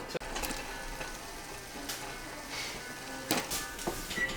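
Diced potatoes frying in melted butter, a moderate, steady sizzle with a few sharp clatters and stirring noises near the end, no speech.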